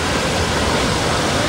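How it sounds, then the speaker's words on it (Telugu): Heavy monsoon rain pours near a large waterfall on a Maharashtra trek, a dense, steady roaring wash of water filling the whole moment without a break. "సో ఫుల్ వర్షం పడుతుంది"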